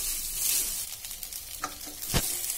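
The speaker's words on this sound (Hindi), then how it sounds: "दोनों हाथों से स्पून लेके इसको स्टर करना है, ताकि हमारा जो दाना है बिल्कुल खिला खिला रहे।" Cheese tawa pulao rice is stirred and tossed with two spoons in a hot pan, giving a soft continuous sizzle with scraping clinks of the spoons against the metal.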